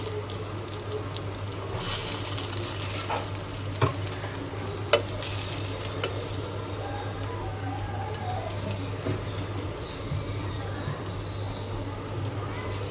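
Snacks frying in a pan with little or no oil, a steady nearby sizzle with occasional stirring scrapes and light clicks, a voice speaking now and then over it.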